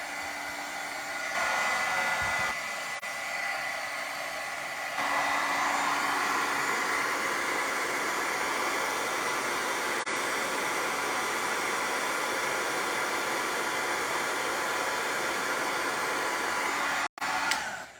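Steady, loud hot-air whoosh of a craft heat tool melting embossing powder on a Deco Foil pumpkin project, running continuously for the whole stretch after a short start-up with a brief dip.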